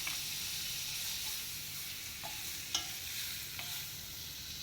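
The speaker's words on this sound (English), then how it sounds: "Now heat a pan and add some butter into it." Butter melting in a heated pan while cooking penne pasta in red sauce, giving a steady soft sizzle and hiss with a few faint clinks of a utensil stirring.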